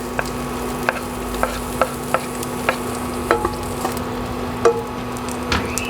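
Onion sautéing in a little hot oil for sinampalukang manok, a steady sizzle with regular light taps of a utensil against the pan.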